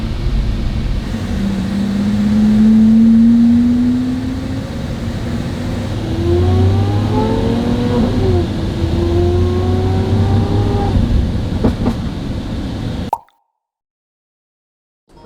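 A car engine revs up and down repeatedly, rising and falling exhaust tones with pops, close and loud, before cutting off abruptly.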